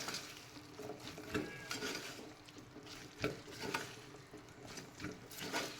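Masala being stirred in a pan for a vegetable biryani, the spoon scraping and knocking in an uneven rhythm over a low, steady sizzle, close and moderately quiet with no talking.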